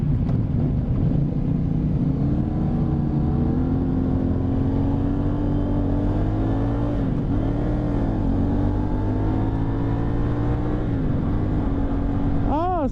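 A 2023 CFMoto 450SS motorcycle engine holds a steady loud drone, the pitch rising and dipping as the throttle is worked, with a sharper rev at the end.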